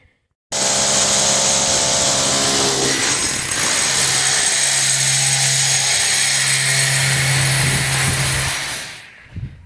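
A rotary hammer drill runs continuously for about eight seconds, a loud close mechanical drone that stops abruptly.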